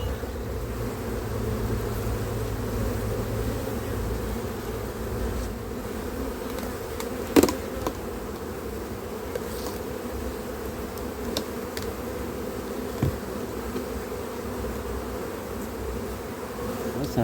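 Steady insect buzzing of honeybees around an open beehive, including robber bees arriving at the colony, a continuous low drone with a couple of brief sharp knocks.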